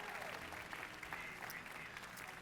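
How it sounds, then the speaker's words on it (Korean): A church congregation applauding a pastor, a faint, steady wash of many hands clapping together with talk mixed in. "한 번 더 첸 목사님에서 박수를 치시기 바랍니다"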